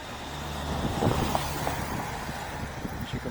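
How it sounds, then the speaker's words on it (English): Wind buffets the microphone of a head-mounted camera on a bicycle ride in direct sunlight, with a steady low roar and road traffic rumbling past nearby throughout. "there's wind hitting the microphone and also cars about"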